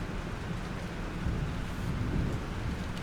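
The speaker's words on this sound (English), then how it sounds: "This storm is real." Thunderstorm in the video game Life is Strange: steady roaring rain with deep rolling thunder swelling low underneath, continuous and fairly loud, no voices.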